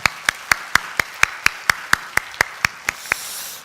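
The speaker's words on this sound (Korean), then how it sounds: "박수로 하나님 앞에 영광을 돌려드리겠습니다." A church congregation at a Korean Sunday worship service claps in tight unison, a crisp and evenly spaced run of about fifteen claps at roughly four per second, ending with a soft rush of room noise.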